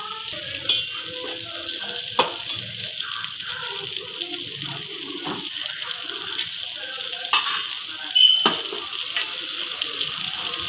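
Vala dry fish frying in oil over a low flame gives a steady, dense sizzle and crackle that runs without a break at a moderate level, with a few faint clinks and no speech.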